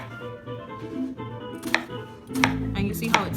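A knife slices through an onion on a cutting board, with several crisp chopping taps in quick succession, close and moderately loud over faint room noise.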